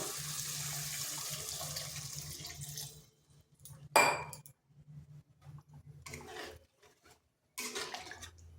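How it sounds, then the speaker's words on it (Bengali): Water is poured into a pan of fish curry, a steady splashing stream for about three seconds, then a sharp clink and a few short softer pours and splashes. "দিচ্ছি জল"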